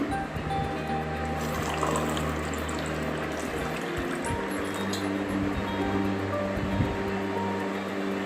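Water pours into a homemade Eno-style fizzy mixture in a container, a continuous trickling and splashing wash that holds steady at moderate loudness from start to finish.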